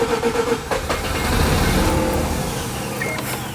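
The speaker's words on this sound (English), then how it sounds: "it's cranking over. It's starting, and then it dies." A Mazda RX7 rotary engine cranks over, catches briefly and then dies, a rough mid-pitched mechanical churn that swells and fades, with faint clicks near the start.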